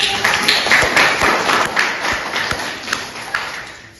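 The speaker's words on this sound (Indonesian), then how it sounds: "Kasih tepuk tangan dulu buat Laura." A classroom of students claps for a classmate, a dense burst of scattered hand claps that is loud at first and then thins and fades over a few seconds.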